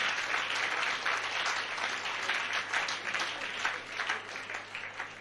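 A church congregation applauds to acclaim the Lord, a dense, sustained wash of many hands clapping together, steady and fairly distant throughout.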